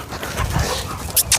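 Dogs on an outdoor training walk pant and whimper softly and close by, a steady breathy rasp with faint whines, while two brief sharper bursts stand out near the end.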